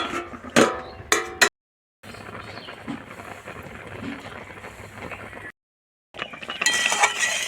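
A lid is set on a pot of boiling black taro, giving a few sharp metallic clinks close by, then a steady simmering hiss from the covered pot.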